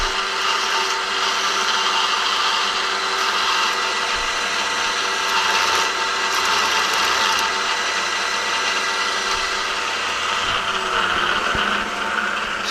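A drill press quill feeds a bit roughly three-quarters of an inch into a workpiece on a refurbished Boyar Schultz machine, giving a steady, dense whir that runs loud and unbroken throughout.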